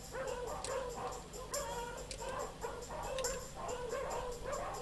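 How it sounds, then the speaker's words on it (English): Many dogs bark, yip and whimper together in a dog pound scene from the Dizzy video game, a dense continuous chorus of overlapping calls at steady moderate loudness with no talking. "It sounds as though there are many dogs nearby."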